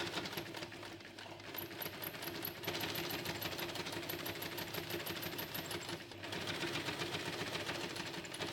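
A sewing machine topstitches around a fabric tote bag, its rapid rhythmic needle chatter running in steady bursts with short pauses, quiet and close with no talking.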